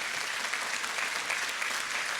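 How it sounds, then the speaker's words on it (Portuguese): A church congregation at a finance workshop bursts into steady, dense applause, a continuous wash of many hands clapping at moderate distance with no voices over it. "dê um aplauso bem forte ao Senhor"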